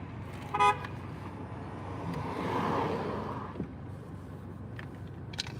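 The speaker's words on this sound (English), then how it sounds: "That honking's not for me." A car horn outside gives one short, distinct honk early on, then fades into a steady background of passing road traffic.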